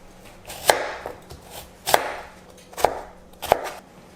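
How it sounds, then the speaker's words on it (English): A knife chops vegetables into cubes on a board for a chickpea and vegetable soup, four sharp, evenly spaced thuds close up with quiet pauses between. "Let's chop the vegetables first"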